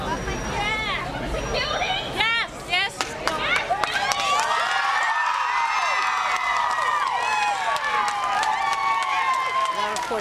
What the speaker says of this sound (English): we want to take you to reaction just after the verdict was read of the crowd outside